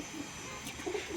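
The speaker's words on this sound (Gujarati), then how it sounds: "જો કબૂતર અહીંયા નાઈ છે જો આવ્યો" A pigeon gives a short, soft coo near the end of a quiet stretch, faint against a steady background hiss.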